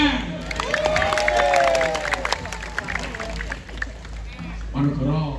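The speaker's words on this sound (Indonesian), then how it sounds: "tepuk tangan." A crowd at a live outdoor religious comedy talk show in Kalirejo claps and cheers, and loud voices and shouts ring out over the busy, continuous applause.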